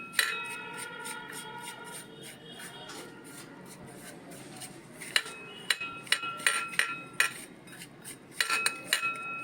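Spice masala being mixed into fried okra (bhindi fry) in a metal dish, with a steady run of bright scraping and clinking spoon-on-metal strokes that grow louder and choppier toward the end.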